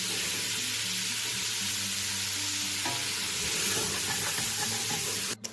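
Chili meat fries in bacon grease with a steady loud sizzle, stirred and scraped in the pot, continuous and close throughout.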